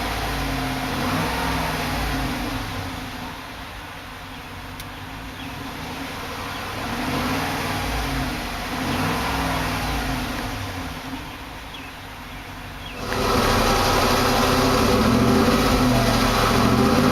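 A 2009 Hummer H2 Sedona Metallic Black Chrome Edition engine idles and revs through its exhaust in a few rising and falling swells. It then settles into a louder, sustained, close roar for the final seconds.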